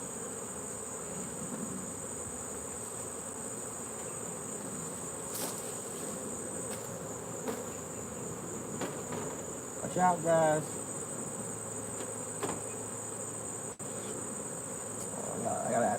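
Honeybees buzz steadily around an open hive during a honey harvest, a continuous insect drone with a brief flurry of closer wing noise and a short spoken warning partway through.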